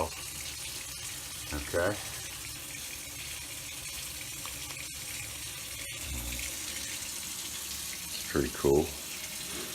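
A tap on an RV tankless water heater runs hot water in a steady hiss throughout, with a unit fan humming, and someone speaks briefly twice over it.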